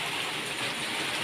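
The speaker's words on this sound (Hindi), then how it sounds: "कितना बारिश हो रहा है यहाँ पर।" Heavy rain pouring down outdoors, a dense, steady hiss with no breaks, loud and close throughout.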